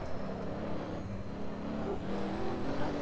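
Pagani Huayra engine note in the Assetto Corsa racing sim, a dense, steady drone held at moderate revs with small pitch shifts as the throttle varies, loud and continuous without talk.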